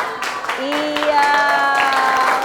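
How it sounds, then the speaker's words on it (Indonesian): Hand clapping in a classroom during a student-teacher lesson, with scattered claps mixed under loud, sung or called-out children's voices close by. "tepuk tangan."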